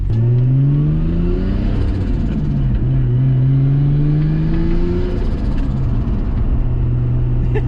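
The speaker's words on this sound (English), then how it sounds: "That turbo sounds quite cool." Tuned Nissan R33 Skyline turbo engine accelerating from inside the car, its loud low drone rising in pitch through gears with a short dip between shifts, steady and close throughout.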